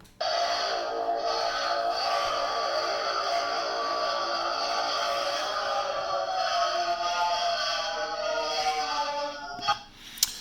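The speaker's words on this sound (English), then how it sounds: "the diddly bow shower being played, but then stretched out twice as long." A diddly bow recorded in a shower, slowed to twice its length, rings as a dense, sustained metallic drone with shimmering overtones and slowly shifting tones, steady and moderately loud before fading near the end.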